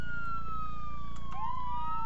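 A police car siren wails in the ARMA 3 video game during an Altis Life police session, loud and close, holding a steady tone that then sweeps and bends in pitch, with no talking over it.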